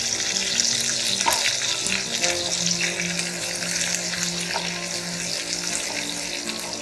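Green chillies and ginger sizzle in hot oil in a pan while being stirred, a steady bright frying hiss with scattered scrapes and light clatters, close and fairly loud throughout.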